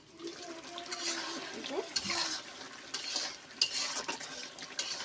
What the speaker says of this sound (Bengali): ঢাকাটা আগলে করে আবার নেড়ে দেবো